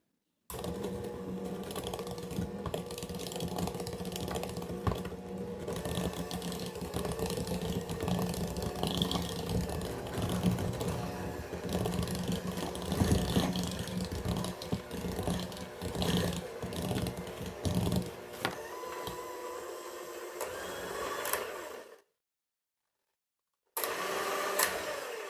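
An electric mixer beats peanut butter, butter and brown sugar together, a continuous whirring motor with rattling and knocking from the bowl for about twenty seconds, then stopping briefly before restarting.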